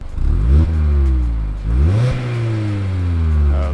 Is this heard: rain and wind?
no